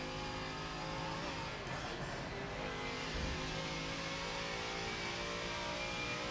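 Race car engines roar in the racing game Forza Motorsport 7, led by a BMW M8 GTE with a Ford GT close behind. Steady high engine tones hold throughout at a moderate, even level, with no talk.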